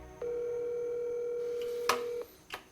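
A telephone call goes out and rings toward voicemail: a steady electronic tone holds for about two seconds, then cuts off with a couple of brief clicks, heard faint and alone.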